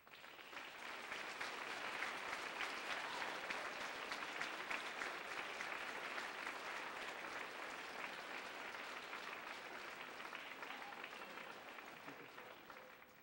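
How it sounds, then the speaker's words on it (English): An audience at a 7th and 8th grade school band concert applauds steadily for about thirteen seconds, a dense, even clapping that swells in and tapers off at the end. "give them their round of applause"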